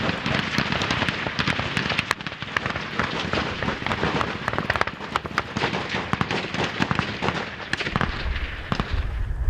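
Dense, rapid bursts of gunfire crackle continuously, loud and overlapping, like heavy automatic fire with sharp cracks throughout, during an ambush in South Sudan.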